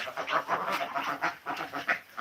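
Ducks inside a duck house quack in quick, overlapping bursts, several birds calling close by in an uneven, chattering rhythm.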